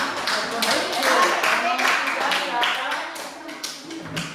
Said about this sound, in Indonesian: silakan tepuk tangan untuk kelompoknya tadi